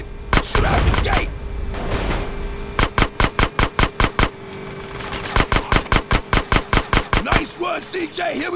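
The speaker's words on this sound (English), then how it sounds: "Shoot out the gate." In GTA San Andreas, rapid gunfire shoots out an old sewer gate: loud close shots in evenly spaced bursts with brief gaps, and voices can be heard at times.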